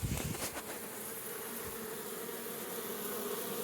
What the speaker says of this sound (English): That is a lot of bees.